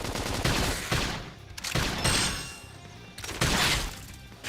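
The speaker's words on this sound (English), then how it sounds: "Topple him with some gunfire!" Bursts of rapid, dense gunfire in Xenoblade Chronicles X, loud and close, coming in several rattling volleys with brief gaps between them.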